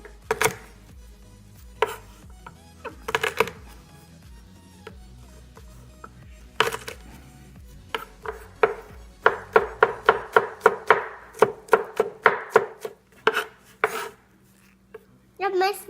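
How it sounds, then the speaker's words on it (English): A knife smashes and chops on a cutting board: scattered single knocks at first, then a fast run of sharp, close chops, with quiet pauses and faint talk between. "I'm gonna smash it and chop it."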